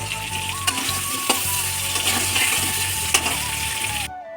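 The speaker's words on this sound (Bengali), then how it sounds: "এবার এই তেলটার মধ্যে কিন্তু আমি আলুটা ছেড়ে দেবো।" Potatoes with turmeric sizzle and crackle steadily in hot oil in a pan, loud and close, with a few sharp clinks of a utensil against the pan and the frying cutting off abruptly at the end.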